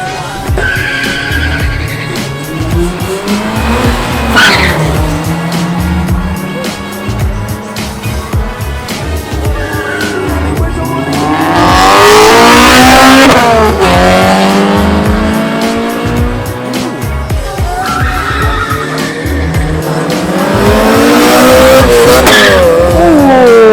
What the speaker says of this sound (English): this is definitely the lineup to go on track. To do drag races.